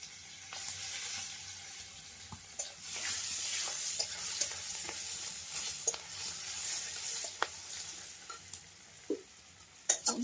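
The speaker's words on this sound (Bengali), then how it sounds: "অল্প একটু পাঁচফোড়ন দিলাম, আর এই পেঁয়াজ কুচিগুলো দিলাম।" Chopped onions and panch phoron fry in hot oil in a Sundarban village kitchen, giving a steady close sizzle broken by scattered scrapes and taps of stirring.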